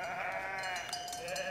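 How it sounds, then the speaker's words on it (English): Sheep bell in the video game Foundation: a sustained ringing, metallic tone with layered harmonics and faint bleat-like wavering, steady and fairly close, with no talk over it. "Sheep bell."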